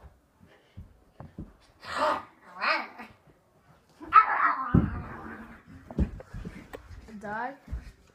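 A person mimics a dog with several short, bark-like vocal yelps during a playful animal-impression game, close and fairly loud, with other voices around.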